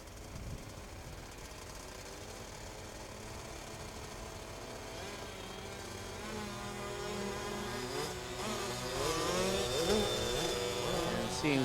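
Two Kawasaki KX65 65 cc motorcycles racing on a flat track, their engines whining in a continuous buzz that grows louder and rises in pitch toward the end as the bikes pass.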